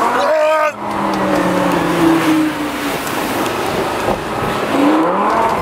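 A Lamborghini engine revs hard and pulls away, loud and close, with rising engine tones swelling several times over steady background noise.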